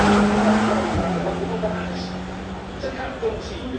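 A Ferrari climbs the hill course at the Goodwood Festival of Speed, its engine a steady droning note heard at moderate distance, with a brief shift near the one-second mark, all under continuous commentary talk and crowd ambience.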